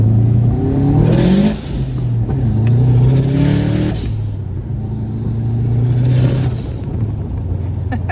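A turbocharged Subaru Impreza WRX STI bugeye engine revs up repeatedly, rising and falling in pitch with a loud, close rumble and a surge as boost builds.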